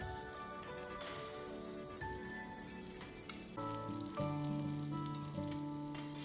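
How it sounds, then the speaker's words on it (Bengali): Salmon fillet frying in butter in a pan gives a steady close sizzle and crackle throughout, with busier spitting toward the end and a faint tonal background underneath. "আমি একটি দিক 2 থেকে 3 মিনিট ফ্রাই করে নেব।"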